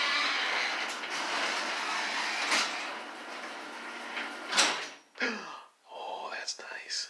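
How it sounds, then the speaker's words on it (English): A garage door rumbles steadily as it closes, wood door panels with a rubber seal along the bottom, ending in a couple of brief thumps as it settles; close and moderately loud, with no talking. "So we'll see what happens when the garage door closes."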